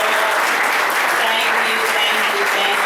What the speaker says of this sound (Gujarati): આવો આપણે સર્વ પ્રભુને તાળીથી મહિમા આપીશું.